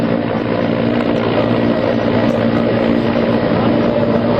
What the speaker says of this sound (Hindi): नेवी के हेलीकॉप्टर के जरिए एक जवान को ड्रॉप किया जाता है